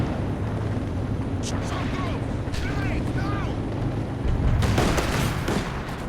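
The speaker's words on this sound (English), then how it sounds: "They're calling heavy artillery from their base down." Heavy artillery barrage in the strategy game Company of Heroes 2, dense rumbling explosions and battle noise filling the scene, swelling into a louder blast near the end.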